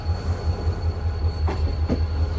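Three 3000-horsepower diesel locomotives, one GMU and two AGE30, idle at Multan station, giving a steady low engine rumble with a constant high whine and a couple of brief sharper bursts.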